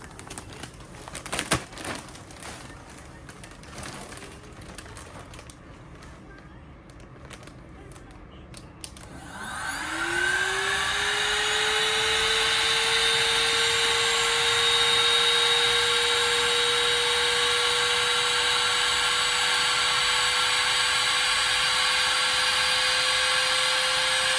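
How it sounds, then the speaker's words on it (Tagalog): A vacuum pump sucks the air out of a plastic storage bag packed with clothes. Quiet rustling and crinkling come first, then the motor starts abruptly and runs as a loud, steady whine with its pitch slowly rising. "mag-vacuum seal tayo guys ng damit para hindi takaw space"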